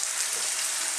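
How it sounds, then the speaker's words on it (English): Fresh chopped tomatoes hit a hot pan and sizzle steadily, a bright continuous hiss of frying close up with no voices. "at this stage I'm going to add some tomatoes"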